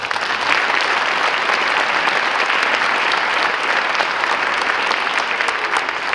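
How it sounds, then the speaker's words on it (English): Sustained audience applause at a high school band winter concert, a steady dense wash of many hands clapping that fills the whole stretch evenly without a pause. "So let's give them a round of applause."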